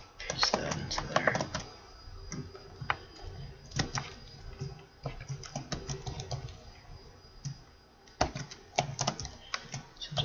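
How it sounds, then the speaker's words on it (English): Quick bursts of clicking keys on a computer keyboard as a username and password are entered, irregular runs of taps with short pauses, close and clear. "So just typing in the username and password."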